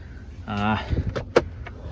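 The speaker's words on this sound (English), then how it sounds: "Power sliding back glass works." Power sliding rear glass on a Ford F-150 XLT Sport with the 2.7 L EcoBoost, giving a brief electric motor whine that ends in a few clunks and clicks, close up, with a voice nearby.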